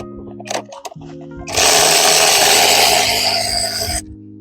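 A ratchet turning an 8mm socket on coil pack bolts of a 2014 Ford Fusion during a valve cover gasket job: a few light clicks, then a loud, steady buzzing whir for several seconds up close.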